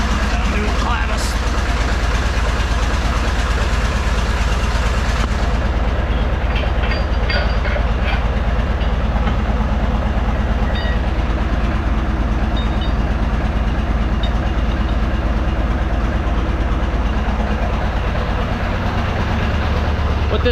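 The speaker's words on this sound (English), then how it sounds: "Put this tractor away." A Ford 8600 tractor engine runs loud and steady while being driven, a dense continuous rumble with rattling and clanking, easing off near the end.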